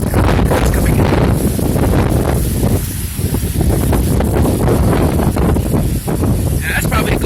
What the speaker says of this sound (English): that's probably a good 35, 40 mile an hour gust